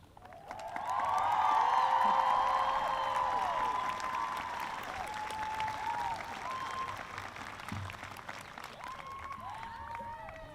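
Commencement audience applause swells into a loud burst of clapping with some cheering, then eases to a steadier, quieter patter that carries on to the end.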